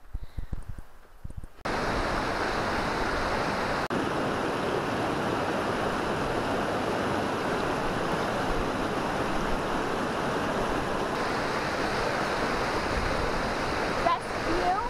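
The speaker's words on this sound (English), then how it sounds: "Here's a stream from the waterfall." Steady, full rushing of a waterfall stream pouring continuously at Crater Lake National Park, Oregon, loud and close, after a brief quieter opening with faint handling noise.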